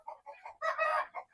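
Chickens cluck in short bursts nearby on a farm, with a louder squawking call in the middle, no voices present.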